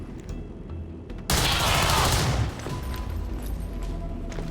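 Gunfire erupts in XCOM 2, a sudden loud, sustained burst of automatic fire that lasts about a second and then cuts back to low game ambience, preceded by a few faint clicks.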